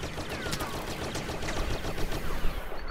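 Rapid, dense blaster fire from a Star Wars Battlefront heroes-versus-villains match, shots overlapping into a continuous crackling barrage that stays loud and close throughout.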